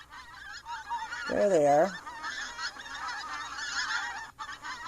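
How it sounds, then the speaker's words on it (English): Geese passing overhead give a short burst of honking, a loud cluster of calls lasting under a second, then fading into outdoor background while a person speaks briefly. "there's the geese going by for the day."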